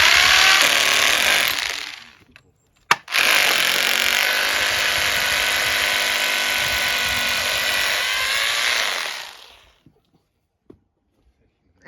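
A power drill boring holes into a hollow block wall at an off-grid home, one short loud burst, a brief pause, then a long sustained roaring run before it stops, followed by a few faint knocks.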